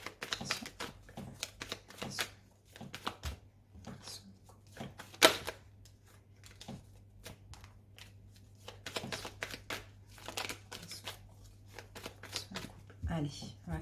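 Oracle or tarot cards shuffled and cut during a reading, a steady run of close papery riffles and slaps, with a sharp snap midway and brisk flicks throughout.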